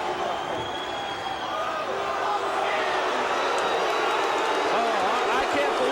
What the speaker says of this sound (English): Some of these people, there's a lot of people clapping.